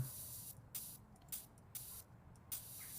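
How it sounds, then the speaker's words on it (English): Spray paint hisses from an aerosol can onto a painting of a tree in short repeated bursts, five or six quick sprays with brief pauses between, at close range and with no voices. "work with the spray can a bit more."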